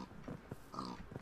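Pig oinking in the video game Minecraft: a few short grunting oinks in quick succession, fairly faint, over a low game background.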